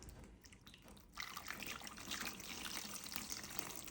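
Water pours steadily into a brine for trout in a cabin kitchen, a continuous splashing trickle that grows louder partway through and carries on without talk.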